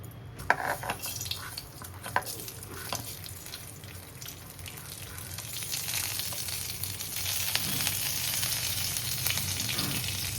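Mustard seeds crackle and sizzle in hot oil in a kadai, a steady close frying hiss with scattered pops and clicks that thickens and grows louder toward the end, no voices.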